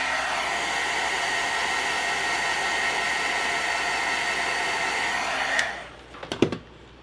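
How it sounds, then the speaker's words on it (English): A heat tool drying a watercolored card blows with a loud, steady whooshing roar for several seconds, then cuts off, leaving a few light taps and clatters. "I'm going to hit it with my heat tool to dry it."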